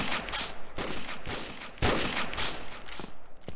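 Gunfire in Counter-Strike 2 crackles in quick bursts and single sharp shots, close and loud, with irregular rapid volleys stacking over a few seconds and no clear speech.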